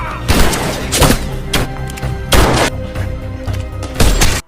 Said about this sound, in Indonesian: Baku hantam dan saling menembak pun tak dapat dihindarkan lagi